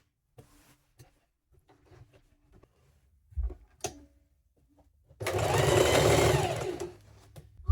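A sewing machine stitches fabric for an agbada kimono bubu: faint handling clicks and taps come first, then a loud, steady whirring run of stitching lasting about two and a half seconds.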